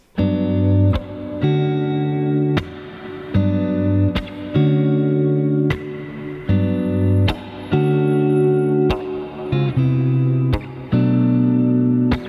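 Guitar strums the chord progression of a song, each chord ringing out in sustained bursts separated by sharp attacks, with an echoey, effects-laden tone.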